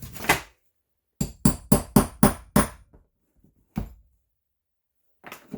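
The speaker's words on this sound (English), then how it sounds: "So I'll just punch the other hole here." A hole punch is hammered through a leather tool belt for rivets: a quick burst of six sharp, close strikes, then a pause and a few single taps.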